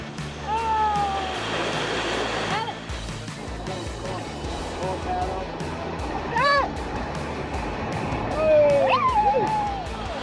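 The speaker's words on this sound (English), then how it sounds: "Look at this! Another waterfall, whoa!" A waterfall rushes along the Ayung River near Ubud, Bali, during a whitewater rafting run, its steady churning water noise heard under excited shouts and whoops from the rafters.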